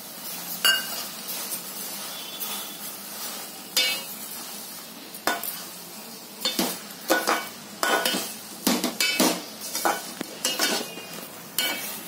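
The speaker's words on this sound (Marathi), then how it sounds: "आता मी साखर घालते" Sugar goes into sweet beetroot halwa cooking in a pan, followed by a spoon stirring and scraping the thick mixture. Bursts of scraping and clinking come in irregular clusters, close and fairly loud, and grow busier toward the end.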